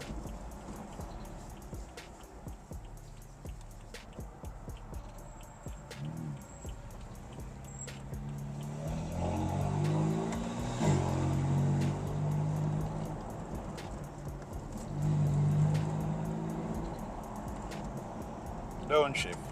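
A BMW M4 under repair drives along with its engine and exhaust droning low. Two swelling revs rise from the hum, and someone talks over them.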